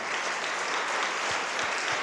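Steady audience applause at a gospel, rap and social justice event, a dense wash of clapping filling the whole stretch at even loudness with no voices over it.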